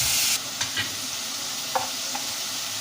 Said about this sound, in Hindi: ये देखें हमारा मसाला भून गया है